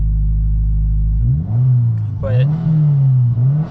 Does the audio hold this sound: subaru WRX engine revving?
yes